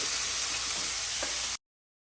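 Onions sauté in a pan for stuffed karela, making a bright, steady hiss and sizzle close up. The sound runs evenly for about a second and a half, then cuts off abruptly into silence.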